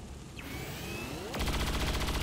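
Weapon fire in XCOM 2 War of the Chosen (modded), a loud dense burst of rapid shots kicking in sharply after a rising whoosh, continuing steadily to the end with no talk.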